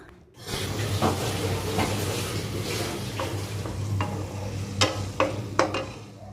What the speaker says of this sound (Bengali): এটাকে ভালোভাবে পাঁচ মিনিট ধরে মশলা ধোয়া জল দিয়ে ভেজে নেব এরপর সুন্দর মশলা ভাজতে ভাজতেই দিয়ে দিচ্ছি এখানে তিনটে কাঁচা লঙ্কা